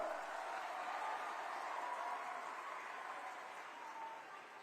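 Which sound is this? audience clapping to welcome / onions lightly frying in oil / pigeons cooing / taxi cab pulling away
audience clapping to welcome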